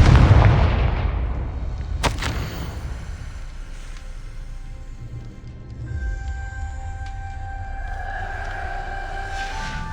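A fiery Confringo spell explosion in the video game Hogwarts Legacy: a booming blast at the start, a sharp crack about two seconds in, then decaying rumble and sustained eerie tonal hums.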